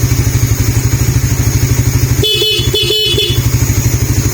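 The stock horn of a Suzuki Raider R150fi motorcycle beeps in two or three short bursts over a steady idling engine, close and fairly loud.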